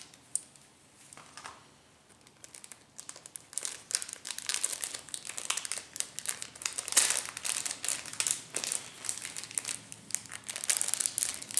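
Careful unwrapping of paper packaging around an antique Victorian mourning hair piece: dense, continuous crinkling and rustling of paper, close and moderately loud, with brief pauses and sharper crackles throughout, no talking.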